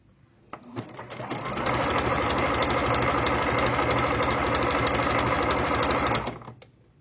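A sewing machine stitches a hem on thin fabric for a scarf, starting up for a rapid, steady mechanical chatter of about five seconds before stopping, close and clear with no talking.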